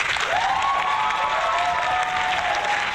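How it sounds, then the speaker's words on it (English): An applause-button sound effect plays a steady burst of canned crowd clapping, bright and even, with a faint tone gliding through it. "hitting a button that's making people applaud for him"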